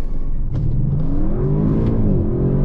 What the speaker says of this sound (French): je vais vous faire une petite accélération